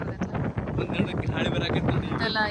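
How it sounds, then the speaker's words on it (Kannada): Wind buffets the microphone on the deck of a passenger ship sailing from Mumbai to Lakshadweep, a loud gusty rumble that runs continuously while people talk over it nearby. "ಈಗ ಗಾಳಿ ಸ್ಟಾರ್ಟ್ ಆಯ್ತು"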